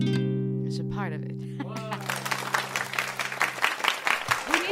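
A live jazz Latino band's sustained closing note fades as audience applause and clapping swell, with scattered cheers and voices mixing into a steady, fairly loud burst of hand claps.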